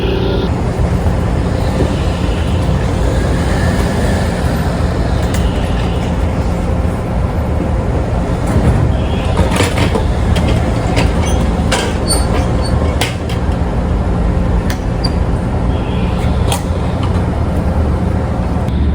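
At a train station in Japan, a loud, continuous rumble of rail traffic fills the air, with occasional metallic clicks and squeals rising over the steady roar.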